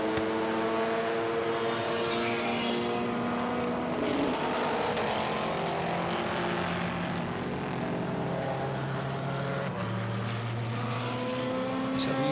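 LMP2 endurance prototypes, BR01 cars among them, race past at Silverstone in a Masters Endurance Legends race, a dense continuous engine roar with rising and falling tones as cars pass close, loud throughout.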